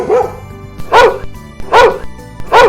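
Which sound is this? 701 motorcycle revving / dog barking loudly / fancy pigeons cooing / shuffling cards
dog barking loudly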